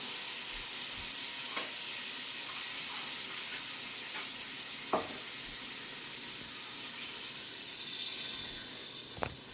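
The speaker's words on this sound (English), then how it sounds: "Now we can add our tomatoes and our sauce." Tomatoes and sauce going into a pot for homemade spaghetti sauce give a soft, steady sizzle with faint bubbling and a few light knocks and scrapes, fairly quiet throughout.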